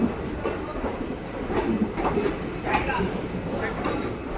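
A Mysore to Chennai express train pulls out of Mysore station, its steady rumble and rail clatter filling the space, with faint voices mixed in.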